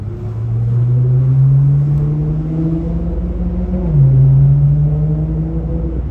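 Deep engine rumble from a convoy of sports cars, a green Aston Martin DB11, a grey Porsche 992 and a Nissan GT-R, rolling past, the pitch climbing then dropping briefly as a gear shifts, steady and fairly loud.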